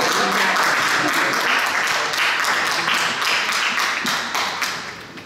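Audience applause at a political party assembly presenting election candidates, loud sustained clapping from a crowd that fades slightly near the end.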